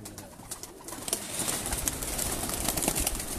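A pigeon kept by a breeder coos softly at close range, low murmuring notes over a faint background, with a few light rustles or wing flutters mixed in.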